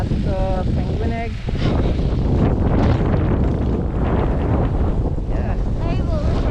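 Strong wind blasts through a New York City snowstorm, roaring and buffeting loudly across the microphone without letup, while people talk briefly under the gusts.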